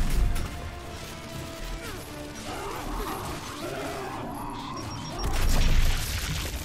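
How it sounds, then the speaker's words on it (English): An explosion in the Gears 5 shooter, a dull burst and clattering crash over a noisy combat background, swelling loudest near the end. "I just like exploded."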